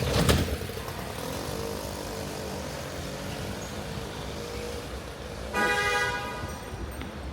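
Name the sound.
street traffic with car horns in Rabat, Morocco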